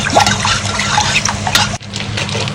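A glass of water poured into tomato sauce in a pot over medium heat on the stove for Egyptian koshari, giving a close, continuous liquid splashing and stirring clatter with a brief break midway.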